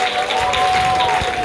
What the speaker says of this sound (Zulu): cela nishaye ihlombe